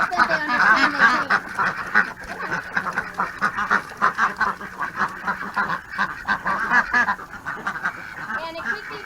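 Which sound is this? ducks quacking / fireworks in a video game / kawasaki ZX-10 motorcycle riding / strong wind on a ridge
ducks quacking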